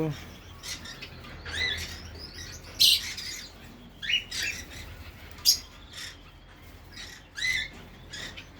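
Conure parrots loose outside their cages give sharp squawks and chirps in irregular bursts over a quiet background, some calls close and loud, others fainter.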